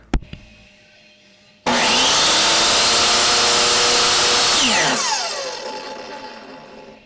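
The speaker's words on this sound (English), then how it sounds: "let's go ahead and take a listen to this real quick" DeWalt DWE7485 compact table saw with a 15-amp motor and 8¼-inch blade switching on with a sudden loud whine, running steadily at full speed, then winding down after shutoff.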